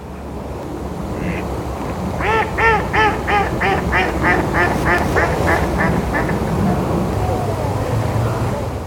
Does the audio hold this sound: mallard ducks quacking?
yes